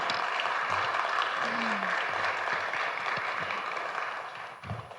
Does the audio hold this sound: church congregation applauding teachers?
yes